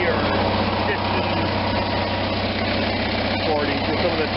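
An RV engine idles steadily nearby with a low, even rumble, while someone talks over it throughout.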